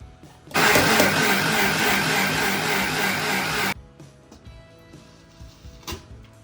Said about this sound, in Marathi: आता आपण थोडंसं पाणी घालून पुन्हा एकदा मिक्सरमध्ये बारीक करून घेऊयात